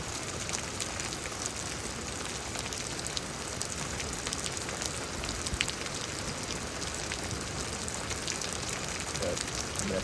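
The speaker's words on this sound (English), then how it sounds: "Guess I'll let the storm do the talking for me." Steady thunderstorm rain falls in Houston, Texas, a dense, even hiss of drops on surfaces with faint scattered patters, continuous and fairly close throughout, with no one talking.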